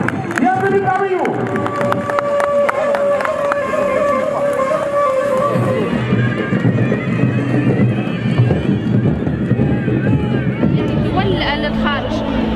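At a Tunisian festival, horses of a mounted municipal brigade whinny and their hooves clatter among crowd noise, with a steady busy din and voices in the background.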